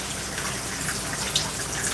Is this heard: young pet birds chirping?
no